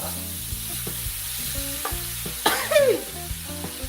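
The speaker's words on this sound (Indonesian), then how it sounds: "Lalu aduklah di sana. Aduk dan aduklah." Sayur asem is stirred in a pot. Soft scraping stir strokes come at a steady pace under a faint sizzle, with a sharper clink and swirl near the middle. No one speaks.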